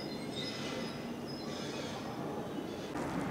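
A train hauled by an RE460 electric locomotive rolls beneath a crossing at Spiez, giving a steady, close rumble with metallic wheel squeal and high whine throughout.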